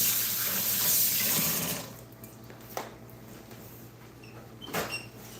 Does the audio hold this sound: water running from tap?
yes